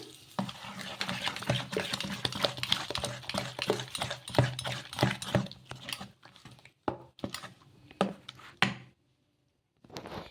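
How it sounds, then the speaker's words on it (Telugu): A spoon stirs and mixes green peas idli batter with semolina in a bowl, a run of irregular scraping and knocking strokes that grows sparse and stops near the end. "వేసుకొని మొత్తం ఒకసారి మరీ కలిసేలాగా కలిపేసుకుందాం"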